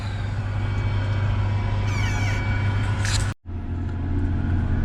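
A combine harvester drives along, its engine giving a steady heavy rumble with a strong low drone, a brief high whine in the middle, and a short dropout near the end before the drone resumes.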